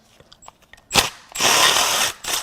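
A ratcheting wrench turns a bolt on the engine of a 2016 Ford Focus with a 1.0-litre three-cylinder EcoBoost, starting with a few light clicks, then a strong burst of fast ratchet clatter and a shorter one, close and alone.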